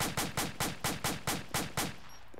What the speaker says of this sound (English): you can put down a buttload of rounds semi-auto